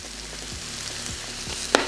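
Chicken sizzling and frying on a flat top griddle, a steady close hiss broken by several scraping spatula strokes and a sharp clack near the end.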